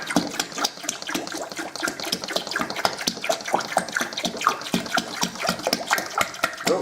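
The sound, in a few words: homemade wine being poured and splashing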